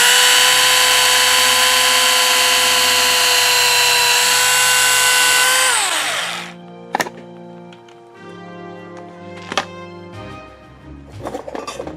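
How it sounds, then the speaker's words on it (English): A small Tamiya hand drill starting a pilot hole in a model: a steady, loud, high whir for about six seconds that drops in pitch and stops, followed by a few faint clicks and taps. "So we're going to start a pilot hole here."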